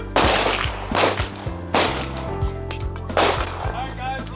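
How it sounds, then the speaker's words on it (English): Single handgun shots ring out sharply during a combatives training session, several loud cracks spaced about a second or two apart, each with a brief echoing tail, while people talk quietly between them. "Last call, single shot."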